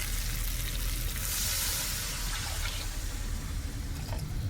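Potatoes fried until soft in a pan hiss steadily as a little water goes in, the sizzle swelling into a brighter burst before settling back to a constant crackle, close and alone.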